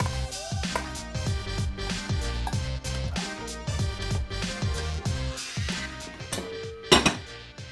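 Onions and mushrooms go into a pan for a beef bourguignon burger, with repeated metallic clanks and scraping of utensil against cookware, moderately loud and steady, and a sharper clatter near the end.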